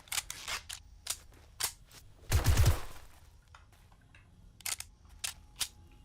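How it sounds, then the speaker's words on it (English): Video game gunfire with reloading: sharp, separate shots spread across the stretch, with a louder burst of rapid rattling shots near the middle, and no talk over it. "Just fire and reload."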